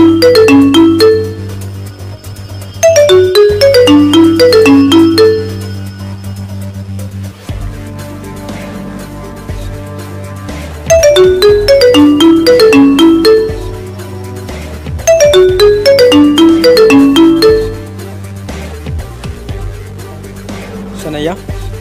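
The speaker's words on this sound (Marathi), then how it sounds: "शनैया फोन कोणाचो?" A mobile phone ringtone plays a repeating chiming melody in loud bursts with short pauses between rings, sounding alone and close.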